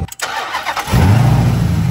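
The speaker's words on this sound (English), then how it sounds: "start up your brand new car" A supercharged car engine is cranked and fires up, a brief starter whir giving way to a loud, rumbling idle close by that settles in after about a second.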